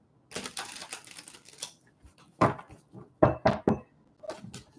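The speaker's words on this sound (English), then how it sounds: "Last shuffle." Crisp papery riffling bursts of tarot cards being shuffled, an initial long ripple followed by several short sharp flicks and taps, close up with no talking.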